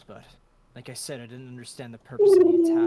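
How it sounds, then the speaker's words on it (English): A dog in a multiplayer game lets out an owl-like hoot, a sustained tonal call rising loud at the very end, right after a stretch of talking. "That was my dog."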